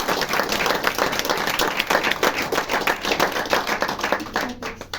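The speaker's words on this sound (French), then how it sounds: "Je vous prie de l'applaudir." An audience at a Paris theatre performance applauds, a dense wash of clapping with distinct individual claps standing out, continuing steadily before thinning at the very end.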